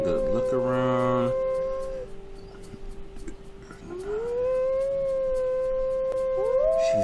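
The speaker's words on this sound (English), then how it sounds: "She's gonna let out another howl to see if she can attract a male." A she-wolf in the video game WolfQuest 3 lets out long, drawn-out howls that rise and hold steady, layered over soft ambient wind and background game sound, with one brief sharper call near the start.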